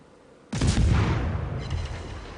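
5-inch high explosive shells firing in World of Warships, one sudden loud naval gun blast that rolls and rumbles away over about two seconds, close and heavy, with no talking.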